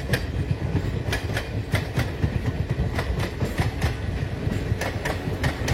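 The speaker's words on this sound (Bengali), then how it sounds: "এটা বাঁদিকে যে ট্রেনটা যাচ্ছে হাওড়া বালুরঘাট এক্সপ্রেস।" The Howrah Balurghat Express rolls past, loud and close, with continuous rhythmic clickety-clack of wheels over rail joints above a dense rumbling roar.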